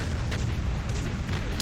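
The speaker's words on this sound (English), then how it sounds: "Right, a lot of explosions now." Explosions boom in the video game Duke Nukem: Manhattan Project, a dense, loud rumbling barrage of blasts with no break across the short stretch.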